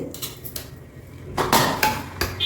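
Freshly cooked hot rice spread out on a wide plate to cool for gongura pulihora, heard as a few sharp clinks and scrapes of a utensil against the plate, close up with quiet gaps between them.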